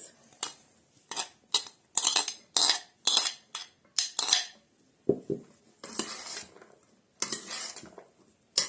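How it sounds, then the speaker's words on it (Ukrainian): Okroshka ingredients, radish among them, being stirred in a bowl with a spoon: a series of sharp, close scraping clinks in quick rhythmic strokes, roughly a dozen, with a couple of softer, longer scrapes near the end. "Перемішаємо."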